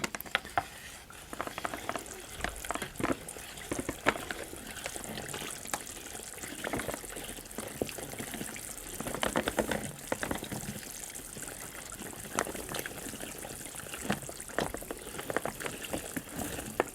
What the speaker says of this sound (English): Could you start mixing for me, Jeremy, as I'm pouring in?